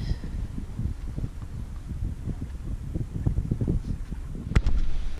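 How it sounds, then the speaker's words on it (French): Wind rising, blowing west to southwest while sailing a boat out past Les Embiez, a steady broadband rush with gusty buffeting on the microphone and a brief sharp knock near the end. "Le vent commence à monter, pleine ouest, sud-ouest."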